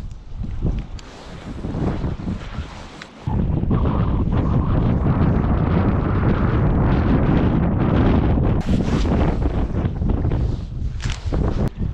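Strong wind buffeting the microphone outdoors while fishing in early winter at Shasta, a loud, continuous low roar with gusty surges throughout, no talk.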